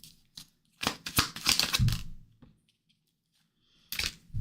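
Tarot cards are shuffled during a live card reading, with quick bursts of riffling and snapping cardstock, close and crisp. A pause follows, then another short shuffle.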